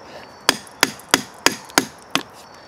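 A Bravo 2 knife is batoned into a damp log outdoors: six sharp, loud wooden knocks at a steady pace about a third of a second apart, each with a quick decay and no talking.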